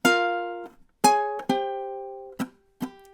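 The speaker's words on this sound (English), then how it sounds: "Measure 10 is going to sound something like this." A ukulele plays measure 10 of a riff: several crisp strummed chords, some ringing and some cut short by muting, near and distinct with nobody speaking.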